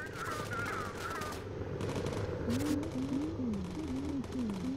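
Rapid bursts of turret machine-gun fire from a bomber in the game Bomber Crew rattle steadily throughout, dense and continuous, with rising and falling engine or siren-like tones weaving over the top.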